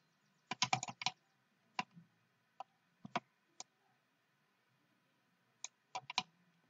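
Sparse, crisp key presses and clicks on a computer keyboard during 3D modelling in Blender 2.8, a quick cluster followed by scattered single taps and a final short burst, close and dry in a quiet room.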